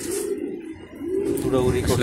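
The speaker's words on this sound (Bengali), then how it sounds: "এখানে ওড়াউড়ি করতেছে, ডাকাডাকি করতেছে" Racing pigeons cooing inside a loft, a steady low warbling coo repeating close by with faint chirps, under a voice talking over it.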